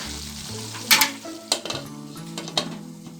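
A South Indian style chicken curry sizzles steadily in a pan while a metal spoon scrapes and clinks against it in several sharp strokes, close and fairly loud over the constant frying hiss.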